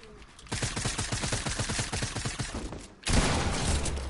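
Rapid automatic gunfire from a video game rattles out in a dense, loud burst lasting a few seconds, then gives way to a steady, harsh blast of noise.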